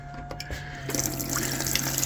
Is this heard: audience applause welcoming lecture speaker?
no